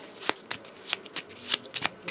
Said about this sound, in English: I'm shuffling up his deck here.